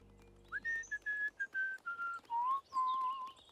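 A person whistles a short, faint melody of the song Snowbird, a run of sustained notes that step downward in pitch.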